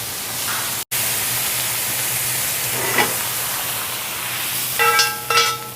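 Tofu, celery and vegetables for a curry stir fry sizzle steadily in a hot pan, a continuous hissing crackle with a few scraping stirs and utensil clinks near the end.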